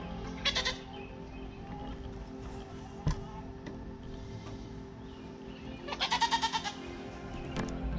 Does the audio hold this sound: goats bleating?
yes